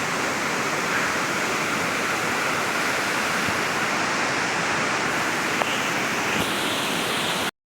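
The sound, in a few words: Mallam Gummi waterfall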